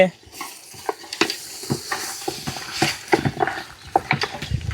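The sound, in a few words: stirring boiled mutton pieces into fried masala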